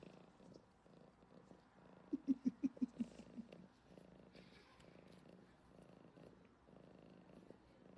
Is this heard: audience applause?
no